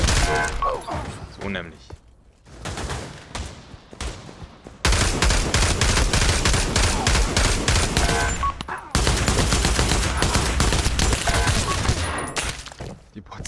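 Weapon fire from a range of guns tried out in a PSVR2 virtual-reality shooting game, played with a Protube gunstock: dense bursts of automatic fire running most of the way through, with brief pauses between volleys and a voice speaking briefly.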